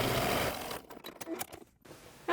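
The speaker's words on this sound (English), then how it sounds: "I want to stitch right across that line, and I want to repeat this process on all 4 corners" A sewing machine stitches across the boxed corner of a quilted tote bag in a short burst, loud and steady at first, then breaking into scattered clicks and pauses as the seam ends.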